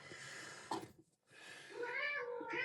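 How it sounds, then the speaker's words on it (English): A person keeps up a drawn-out, wavering meow while paper is worked on at a desk. The first cry breaks off briefly and then a rising, sliding wail follows, close and fairly loud. "you seriously gonna just make cat noises the whole time?"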